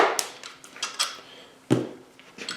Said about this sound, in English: Try not to drop your bolts like that.